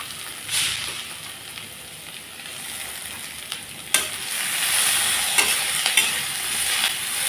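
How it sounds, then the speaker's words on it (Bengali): Potatoes and chopped tomato fry in hot oil in a pan, a continuous close sizzle broken by scraping stirs and several sharp utensil knocks, with no voices. "আলুটাকে 2 মিনিটের মতো ভেজে নিয়ে আমি দিয়ে দেবো টমেটো। এখন টমেটো কুচি দিয়ে দিলাম।"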